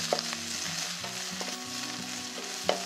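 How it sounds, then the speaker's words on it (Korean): Bamboo shoots and shiitake mushrooms fry in a wok for a Chinese-style meatball dish, a continuous sizzle with occasional sharp clicks of utensils, under a low steady hum and with no talking. "다음으로 죽순과 표고버섯 넣어주세요."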